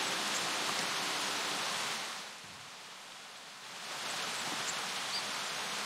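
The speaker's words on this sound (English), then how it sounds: "It's been raining as like consistently since I've been playing this game." Steady rain in the Kingdom Come video game, a dense, even hiss of falling drops that dips quieter for about two seconds midway before returning at full strength, with no talking.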